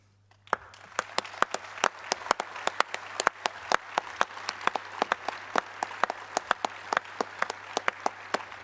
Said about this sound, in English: I would like first a round of applause for them.